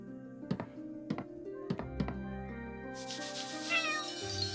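A cat in the video game Chained Echoes gives a few short meows over a sustained musical backdrop, followed by a brighter rustling, shimmering effect in the second half.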